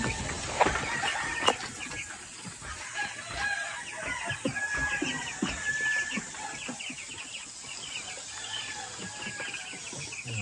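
Chicks and hens cluck and cheep in a farmyard, with a rooster crowing briefly early on; the chatter is busy, irregular and fairly faint, with scattered peeps throughout.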